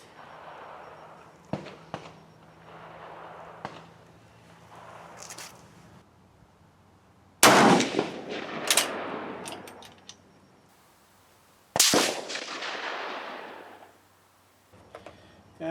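A K31 rifle fires two loud, sharp shots at an outdoor shooting range, each one trailing off in a rolling echo. Quieter distant pops and faint voices come before them.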